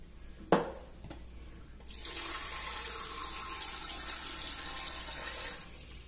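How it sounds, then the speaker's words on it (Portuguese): Water poured from a container into a blender jar while making homemade fertilizer, a steady splashing stream lasting several seconds after a couple of sharp knocks, fairly close and quiet with no talk. "Vou colocar água primeiro."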